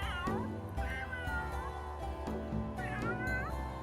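A cat in The Sims 3 meows several times in a row, with clear, fairly close and moderately loud calls that rise and fall in pitch, and no talk over them.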